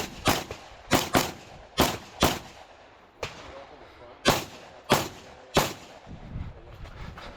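Repeated sharp gunshots from a multi-gun match at West End Gun Club, a shooter firing a pistol after finishing a shotgun array: about eight loud, close cracks in quick pairs and singles, each with a short echoing tail.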